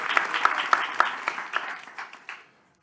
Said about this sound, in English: a warm round of applause for our speakers for coming here tonight